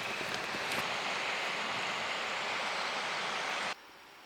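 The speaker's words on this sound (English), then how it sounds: "The next morning we woke up with the sound of the river." A river in West Tasmania flows with a steady, broad rushing wash, constant and moderately near, before cutting to a quieter background hiss near the end.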